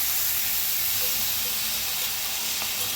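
Red chili powder roasts in a hot pan with a steady, close sizzling hiss that holds evenly throughout, with no talking.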